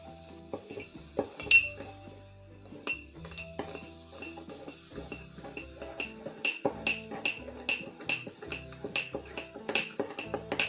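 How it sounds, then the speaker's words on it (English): A spoon clinks repeatedly against a cup while baking soda dissolves in hot water, producing a quick, uneven run of bright metallic taps and scrapes, close by, with no talking. "Now stir this solution thoroughly until the baking soda dissolves completely."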